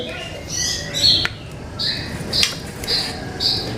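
A caged songbird sings once its cover is pulled back, bright, high trilling phrases and chirps repeating every half second or so, close and clear over a soft background of indistinct room noise.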